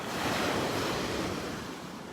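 Ocean waves wash steadily onto the beach at Delnor-Wiggins, a broad continuous surf roar with some wind noise against the microphone, slowly easing toward the end with no voices.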